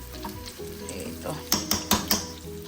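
Onions spread out in hot oil make a soft, close sizzle, followed by a quick run of four scraping stirs against the pan near the end.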